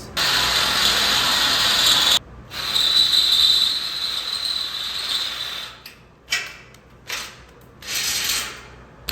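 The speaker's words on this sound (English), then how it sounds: "So when you're drilling holes, you want to drill small holes and then go bigger." A power drill whines steadily, widening a quarter-inch hole to three-eighths in a heavy-duty metal shelf, with a high grinding tone, pauses, resumes, then cuts in and out in short bursts.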